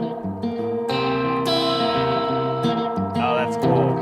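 Electric guitar played through a high-end pedalboard with slapback echo and added reverb, a sustained chord melody ringing with a quick repeat and a washy tail, steady and fairly loud throughout.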